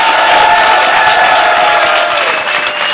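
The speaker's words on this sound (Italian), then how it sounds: "un altro applauso per Giancarlo Magani" Sustained applause from a studio audience on an Italian comedy talk show, for the guest Giancarlo Magalli, a dense steady clatter of many hands that holds level throughout.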